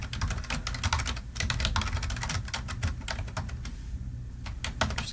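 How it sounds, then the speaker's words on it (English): Rapid clicking of keys on a computer keyboard while typing a title in PowerPoint, a close, steady stream of keystrokes with brief pauses and no talking. "just start typing the title for my poster"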